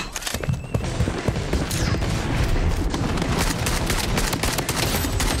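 Gunfire and explosions in the video game Blood Strike, a dense, loud, continuous barrage of shots and booms that fills the whole stretch, with no voices over it.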